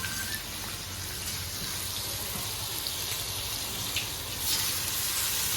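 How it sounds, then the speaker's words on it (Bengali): Fish curry with tomatoes added simmers and sizzles in a pan, a steady, even hiss that holds for the whole stretch, with a faint clatter now and then. "এই এখন মাছের ঝোল রান্না হচ্ছে, টমেটো দেওয়া হলো।"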